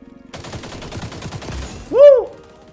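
Rapid automatic gunfire from the video game XDefiant's 3v3 team deathmatch, in a steady burst lasting over a second, followed by a rising synthetic whoosh or chime effect.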